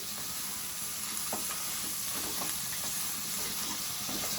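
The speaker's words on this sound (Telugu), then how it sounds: "మంచిగా ఈ ముక్కల్ని ఆయిల్లో ఫ్రై చేసుకోవాలి" Mutton paya pieces frying in oil on high flame, a steady close sizzle with occasional stirring scrapes and no talking.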